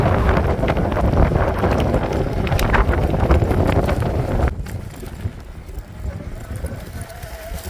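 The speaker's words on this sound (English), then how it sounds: "the wind's hitting me kind of hard right now" Heavy wind buffets the microphone while riding a Lectric XP Lite eBike, a loud, rough roar that suddenly drops to a lighter rush partway through, with no one speaking.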